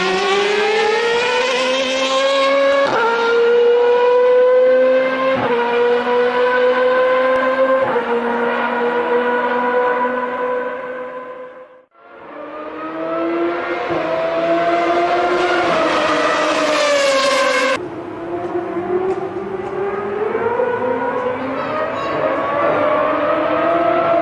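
A Honda HSV-010 race car engine screams at high revs through repeated upshifts, each gear bringing a sharp step in pitch, then a brief lift and another rising run before a downshift, loud and close without any talking.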